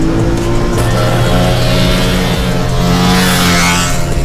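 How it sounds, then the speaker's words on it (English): A Honda V3 prototype motorcycle engine runs at full throttle, a loud, dense, continuous high-revving howl that holds for a few seconds. "this engine sounds glorious on full song"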